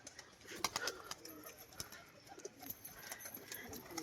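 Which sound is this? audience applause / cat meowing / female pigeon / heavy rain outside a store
female pigeon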